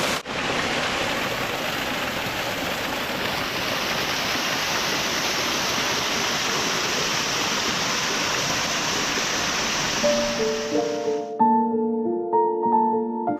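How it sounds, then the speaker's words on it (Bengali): A small waterfall near Jhargram splashes in a steady, close, broadband rush that fills most of the stretch, then stops as soft music takes over near the end. "এখান থেকে ঝর্ণার জলটা পড়ছে দারুণ সুন্দর লাগছে"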